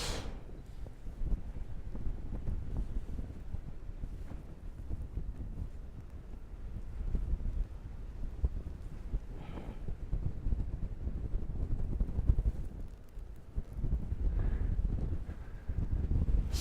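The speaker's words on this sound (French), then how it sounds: "Le vent est nord-nord-ouest, juste comme il faut." Wind rushes and buffets across the microphone during a paragliding flight at Saint-Pabu, a continuous low roar with uneven gusts and no voices.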